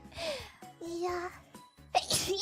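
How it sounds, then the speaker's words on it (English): A single sharp sneeze bursts out amid a woman's animated, high-pitched chatter, close and brief. "Is that your third sneeze already"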